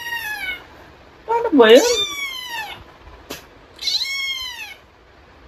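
Cat meows played back as a test to house cats: two or three drawn-out, loud meows with a rising and falling pitch, and a brief voice speaking between them.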